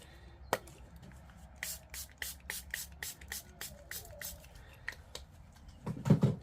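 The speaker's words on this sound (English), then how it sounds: "Bit of water spray." A spray bottle mists in a quick run of about ten sharp spritzes, close and fairly loud, followed by a soft rustle at the end.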